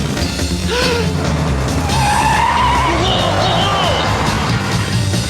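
Cartoon car brakes hard, with a long, loud tire squeal and skid that sweeps and wavers over a roaring engine, alone without voices.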